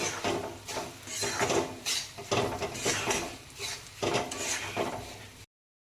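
Semolina (rava) is fried and stirred in a pan for upma, heard as close, rhythmic scraping strokes of a spoon against the pan, repeating about every second before cutting off abruptly.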